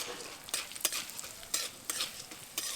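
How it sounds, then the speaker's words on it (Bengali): Two kinds of lentils fry in hot oil in a kadai under a soft sizzle, broken by sharp, irregular scrapes and clanks of a spatula stirring them roughly every half second. "ডালটাকে কিছুক্ষণ খুব ভালোভাবে ভেজে নেব"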